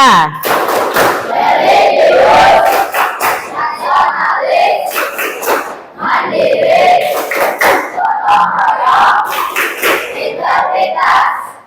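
Students in an Indonesian classroom shout the PPK clap chant together, their loud unison voices punctuated by rhythmic group hand claps in repeated phrases over about ten seconds.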